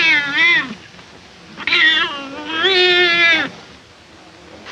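A cat meows in a scene from the 1942 film Cat People: three drawn-out, wavering meows at close range, separated by brief quiet gaps, with no talk over them.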